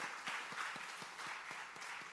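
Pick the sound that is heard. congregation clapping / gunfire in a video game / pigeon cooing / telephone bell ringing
congregation clapping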